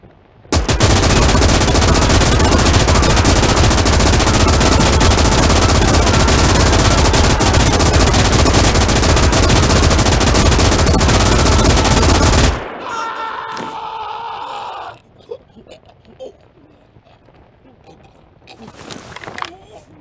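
Enemy machine-gun and artillery fire in the war game Gates of Hell roars as a dense, loud, unbroken barrage for about twelve seconds, then cuts off abruptly, leaving quieter shouted voices and scattered noises.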